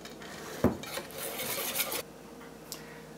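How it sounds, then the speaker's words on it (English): A whisk works butter into lemon curd in a bowl, producing a brief burst of clinking and scraping against the sides with a soft stirring rasp, close and fairly quiet. "Whisk until all butter dissolves."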